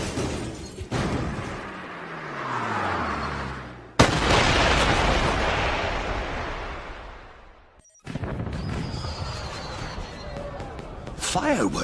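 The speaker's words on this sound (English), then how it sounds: "Did you know there were going to be fireworks?" Fireworks burst during a James Bond 007 Blood Stone video game cutscene, with sharp booms and crackling at about four and eight seconds over swelling orchestral music and background noise.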